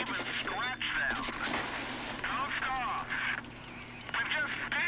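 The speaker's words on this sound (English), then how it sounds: "Drive forward, shoot at the Panzer III A." Tank cannon shots boom in World of Tanks Blitz, in a match against a Panzer III A, with loud game sounds throughout and a voice talking over much of the action.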